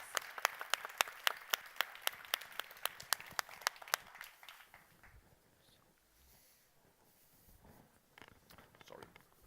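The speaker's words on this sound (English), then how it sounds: "So thank you for listening, and a warm hand of applause to Tone." Applause from a conference audience at an arts and globalization conference, a run of distinct claps for about four seconds that stops abruptly, followed by quiet room noise and faint shuffling.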